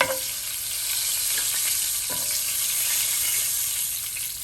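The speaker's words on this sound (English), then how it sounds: "I'm gonna get the second batch in so they can start browning." Meatballs for Swedish meatballs browning in a pan make a steady, close sizzle and hiss, with a couple of soft knocks near the start.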